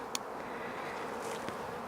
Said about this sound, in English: Now the bees will sort of cluster all over the place to start with